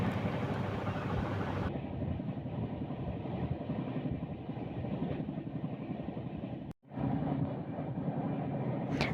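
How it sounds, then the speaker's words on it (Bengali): A moving passenger train on a journey from West Bengal toward Andhra Pradesh rumbles loudly and steadily with rhythmic wheel clatter, the noise briefly cutting out before resuming, heard close and with no talk. "এখন ট্রেনটা একটু জোরে চলতে শুরু করেছে"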